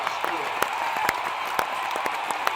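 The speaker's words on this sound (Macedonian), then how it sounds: "Аплауз сега." Audience applause at a Macedonian comedy or satire show, a steady wash of many hands clapping at a constant, fairly loud level with scattered sharper claps throughout.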